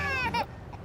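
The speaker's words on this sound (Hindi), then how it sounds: "बच्चे के रोने की आवाज" An infant gives a short, close wail that breaks off and is followed by a faint whimper, heard alone without other voices.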